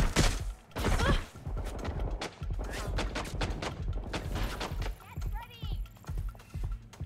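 Gunfire in the video game Watch Dogs Legion, with dense, loud, repeated shots and impacts thudding in irregular bursts while a voice talks over the fighting.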